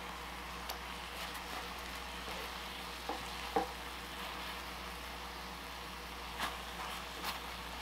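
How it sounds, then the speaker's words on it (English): Tofu simmering in a thick, sticky sauce in a hot pan gives a steady, soft sizzle and bubbling, with a few faint stirring clicks and scrapes over the continuous frying hiss. "we're just gonna let this cook just till it cooks down a bit and everything's kind of glazed onto the tofu"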